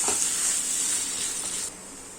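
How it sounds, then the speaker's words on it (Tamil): Chicken thokku sizzles and hisses in a pan as it is stirred after a sprinkle of coriander leaves, a steady close frying noise that drops off slightly near the end. "இதுல கொஞ்சமா கொத்தமல்லி தழை தூவிட்டு நல்லா கிளறி விட்டுடலாம்"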